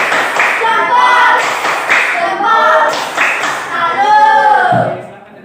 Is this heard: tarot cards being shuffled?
no